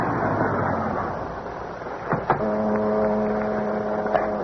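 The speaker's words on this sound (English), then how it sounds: "the long black car which, moving like a sinister shadow, finally came to a stop alongside a deserted waterfront building" Old-time radio drama effect of a long black car moving slowly and drawing to a halt beside a deserted waterfront building, a steady engine rumble with wind-like hiss, then a couple of sharp clunks and a sustained low hum as it stops.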